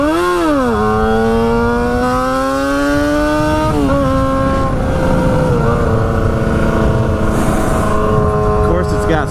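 A cheap motorcycle engine, a roughly 400-dollar bike with some issues, drones loudly and close as the clutch is let out, pitch dipping then holding and shifting, with someone talking over it.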